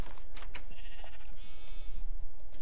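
Sheep bleat in the Minecraft modpack Voltz, with several wavering cries close by and one after another, and short gaps between them. No one speaks.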